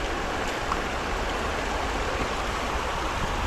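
A river swollen into a strong flood current after heavy rain gives a constant, loud, close rushing roar of turbulent water that never changes. No voices are heard.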